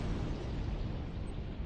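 A grenade explodes under a Mercedes car, a loud, dense, sustained rumbling blast that fills the whole clip without pause.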